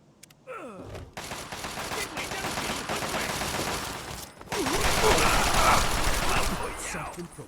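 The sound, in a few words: gunfire in video game Fallout 3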